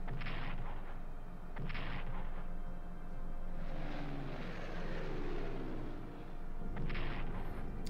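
Artillery bombardment from the World War I strategy game Strategic Command: World War I, with several sharp booming blasts sounding at intervals over a continuous rumbling battlefield din, loud and close.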